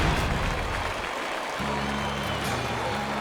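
Applause and cheering from a stadium crowd fill a baseball video game after a home run, a dense, loud roar that runs the whole time while a commentator talks over it.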